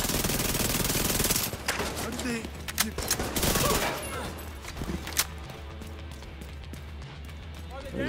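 Rapid gunshot bursts in a Division 2 shootout, loud clustered volleys over the first five seconds, then sparser single shots beneath a steady low hum, with someone talking throughout.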